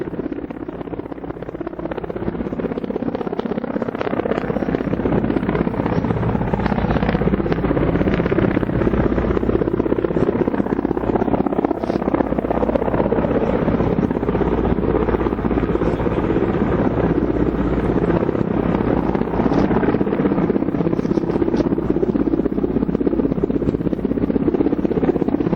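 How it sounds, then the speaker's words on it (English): Military helicopters fly in a display during army exercises at Stakna near Leh in Ladakh, their rotors thudding loudly and continuously with a dense, rumbling drone and wind buffeting throughout. "now this display of the helicopters"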